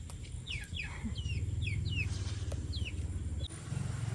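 Chickens cluck and chirp in short, scattered calls at moderate distance outdoors near rice fields, over a steady low rumble of background noise, with no talking.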